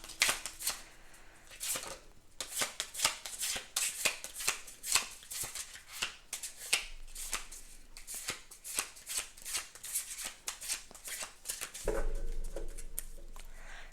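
A deck of tarot cards is shuffled by hand, a fast run of crisp riffling flicks and slaps that repeats in bursts, close and fairly quiet, without speech.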